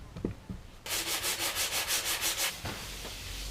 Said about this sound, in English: And I just do it by sanding.